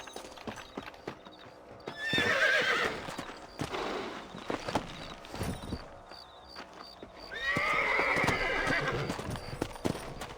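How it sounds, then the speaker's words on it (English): Horses in the Red Dead Redemption video game neigh loudly twice, each whinny long and shrill, while hooves clip-clop steadily underneath at a walking pace. "Let's get back on the horses and see what else is going on."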